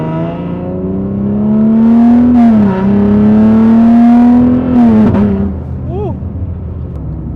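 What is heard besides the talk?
Nissan Z car accelerating, RPM rising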